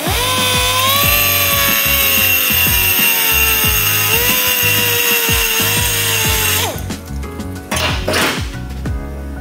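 A turbo compressor wheel is ground to remove weight, giving a loud, steady high-pitched whine with a rough grinding undertone that cuts out near the end, followed by a few brief scraping bursts.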